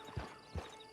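Horse hooves clip-clop in Red Dead Online, two soft, low thuds spaced about half a second apart over a quiet, faint background hum.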